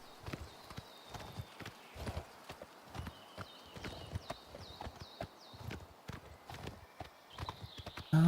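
Hooves clip-clop in a steady walking rhythm as a horse is ridden in the video game Oblivion Remastered, crisp, evenly spaced hits over a quiet background with faint chirping, ending in a louder burst.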